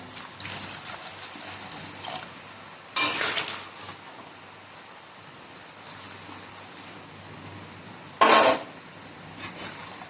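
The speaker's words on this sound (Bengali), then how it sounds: "একটু সামান্য একটু পরিমাণে জল দিলাম" Water being poured into a pot of nearly boiled peas for ghugni, with two short bursts of splashing and trickling plus a few soft clinks over a quiet steady background hum, close by and with no talking.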